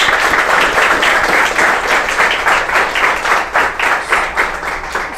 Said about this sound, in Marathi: कृपया सरांसाठी एकदा छान जोरदार टाळ्या होऊ देत.